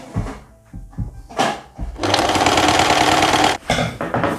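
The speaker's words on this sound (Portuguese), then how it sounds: "agora a gente vai passar na máquina essa parte todinha daqui, viu? Ó, coloquei aqui e já vou começar a costurar" A sewing machine stitches a long winter blazer, running in one steady loud burst of about a second and a half, with shorter bursts and handling noise around it.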